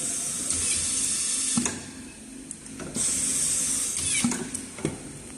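An automatic screw machine driving screws into tape measures runs with a steady high hiss and mechanical whir, broken by several sharp clicks and clunks at irregular intervals, close and moderately loud with no talk.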